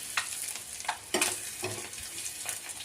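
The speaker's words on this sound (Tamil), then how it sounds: "இப்போ முட்டையை நறுக்கி சிக்கன் பொடி போட்டு இப்படி எண்ணெயில் போட்டு பரட்டிடுவேன்." Chopped egg tossed with chicken powder sizzles and crackles in hot oil, a steady close-up frying hiss with occasional sharper pops as it is stirred.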